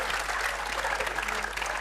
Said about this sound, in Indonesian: beri tepuk tangan dulu ya